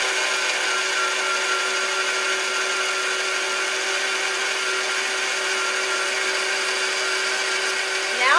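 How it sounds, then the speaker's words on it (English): An electric stand mixer creaming butter for a blueberry coffee cake, with a steady, even motor whir running continuously at close range with no break. "And now I'm going to lower it down and I'm going to start creaming the butter"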